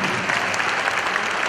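A packed audience claps loudly and continuously for a dance performance, a thick wash of many hands with no letup across the whole moment.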